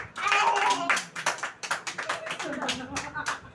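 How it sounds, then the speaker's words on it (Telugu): Several people clap in a quick, uneven burst at a birthday celebration at home, close and fairly loud, with voices talking and singing over the applause. "క్లాప్స్ కొట్టరు గట్టిగా"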